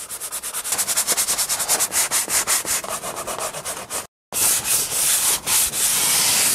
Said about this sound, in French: maintenant qu'on a terminé le ponçage, on va venir appliquer la couche de dégraissant